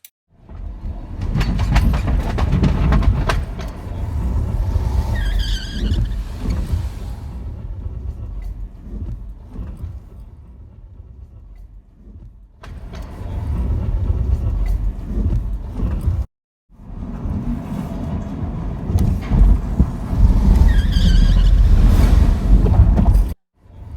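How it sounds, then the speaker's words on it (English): A Jaguar I-Pace electric car being driven hard by a seasoned race driver gives a loud, rushing road rumble and whoosh in long surges, broken by brief quieter lulls and one sudden cut. "a drive experience in an I-Pace electric vehicle"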